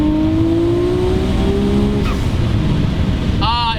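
A 650 hp Nissan R34 GT-R with its RB engine screams through a hard pull, the pitch climbing steadily and loudly before a sharp gear change and a fresh rise.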